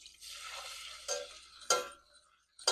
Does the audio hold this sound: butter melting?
yes